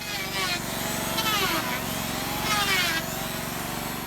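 Eucalyptus wood cut by hand for a traditional wooden boat in a Lebanese workshop near Tripoli: a few rasping saw strokes come in bursts over a steady low hum, with a voice talking throughout.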